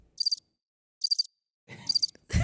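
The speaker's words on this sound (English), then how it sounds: "crickets." Crickets chirp in three short, evenly spaced bursts of high trills against silence, and a muffled thump follows at the end.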